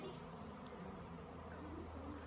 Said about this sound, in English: There are bees absolutely everywhere.